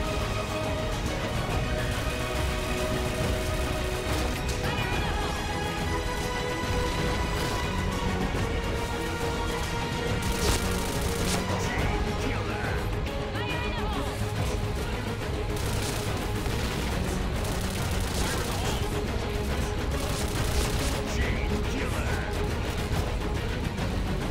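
Kriss SV submachine gun firing at long range in an esports shooter game, dense continuous automatic fire layered with other gunfire and battle noise, loud and unbroken for the whole stretch with no talk.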